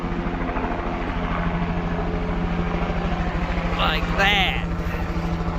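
A helicopter flies low over a hunting area on opening day, its steady rotor thump and engine drone loud and continuous throughout, with someone talking briefly over it.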